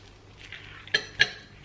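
Food being scooped into a bowl in a home kitchen, two quick clinks of a utensil against dishware after a soft scraping shuffle, close and brief.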